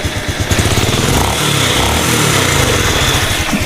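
A Honda Supra 125 FI motorcycle engine idling smoothly after repair, a steady, even low putter close by and fairly loud, with no voices over it.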